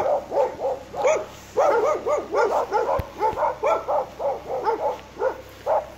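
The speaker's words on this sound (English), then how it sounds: "Not only there are some watchmen, but also dogs." Security guard dogs at a remote market in Romania bark in a rapid, repeated series, loud and fairly close, with short pauses between bursts.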